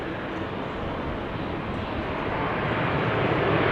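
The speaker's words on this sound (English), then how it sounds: "KLM Embraer 190" A KLM Embraer 190 at Amsterdam Schiphol Airport with a wet runway, heard as a steady, loud broadband jet roar that swells slightly toward the end, with no voices.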